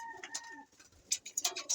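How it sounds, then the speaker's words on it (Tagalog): Racing pigeons cooing softly close by, a few short throaty coos followed by brief bursts of wing flutter and chirps, fairly quiet with no talking. "Yan po ang ating mga ibon."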